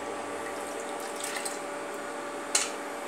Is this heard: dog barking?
no